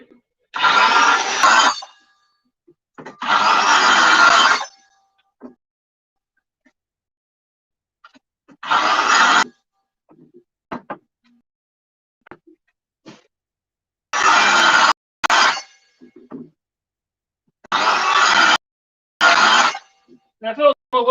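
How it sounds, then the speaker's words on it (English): A DeWalt radial arm saw running on rails cuts in short, loud bursts of a second or two each, separated by silences, with a few faint knocks and clicks between the cuts. "using my DeWalt radial arm saw"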